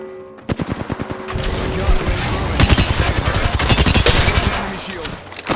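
Rapid automatic gunfire in Apex Legends rattles in fast, loud bursts that merge into a continuous barrage of overlapping shots, with a voice talking underneath.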